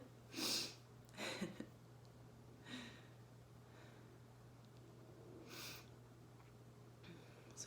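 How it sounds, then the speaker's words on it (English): A single close sneeze bursts out in a quiet room, followed by a couple of softer sniffs and breaths over a steady low hum. "I have to sneeze."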